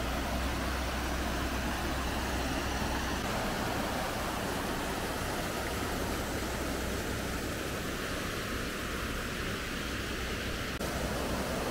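Cachoeira da Água Branca waterfall on Ilhabela, Brazil, a continuous broadband roar of falling water, steady and fairly loud throughout with no talking.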